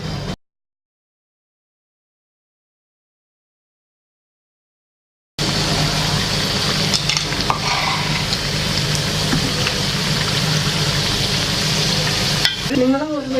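Jaggery khoya gujiya fry in medium-hot oil in a pan, giving a steady, close, bubbling sizzle that starts abruptly after a few seconds of silence and keeps going to the end.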